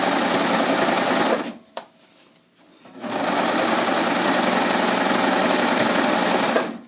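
A serger hums loudly and continuously as it sews and trims a jeans hem, pausing briefly for about a second and a half before running again at full speed, close and alone with no talk.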